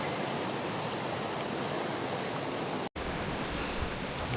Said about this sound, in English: The Burbage Brook is looking pretty good this morning with the rain we've had. Plenty of water in there.